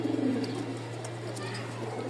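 Breeding pigeons of breeds such as Giribaz, Lakkha and Lotan coo nearby in a loft. A low, soft burst of cooing comes at the start over faint background noise.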